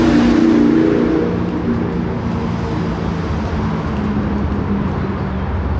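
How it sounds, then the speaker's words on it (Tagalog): Cars drive along Whyte Avenue in Edmonton, a loud, close street scene with engine rumble and a vehicle passing, then steady traffic noise continuing throughout. "Ayun naman yung mga sasakyan"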